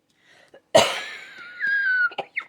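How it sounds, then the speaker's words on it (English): A single harsh cough close by, from a lingering months-long cough, trailing off into a raspy, drawn-out wheezy breath, then a couple of softer short sounds. "This is a cough I've had since middle of February"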